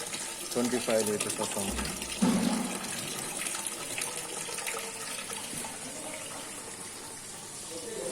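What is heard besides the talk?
water filling automatic seed sanitization unit tank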